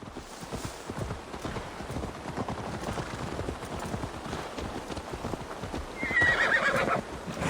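A horse in Assassin's Creed Valhalla neighs and whinnies amid a steady clip-clop of hooves, with game ambience throughout and a louder whinny near the end.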